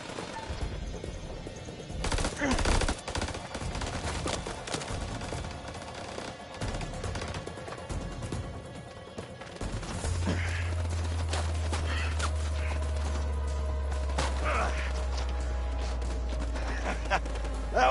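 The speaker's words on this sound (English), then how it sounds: "They're up on the ridge! Return fire!" Gunfire in the horror game House of Ashes during a ridge ambush, bursts of rapid automatic shots and scattered single cracks under shouting voices, followed by a steady low rumble.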